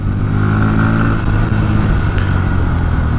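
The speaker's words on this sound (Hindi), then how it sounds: "क्या ही एग्जॉस्ट नोट प्रोवाइड कर रहा है एंड एग्जॉस्ट नोट पे भी गाइस बदलाव आप लोगों को मिलेगा न्यू NS 160 पर।" A 2024 Bajaj Pulsar NS 160 motorcycle's exhaust note while revving, a loud, close, steady engine drone that holds its pitch throughout with no talking.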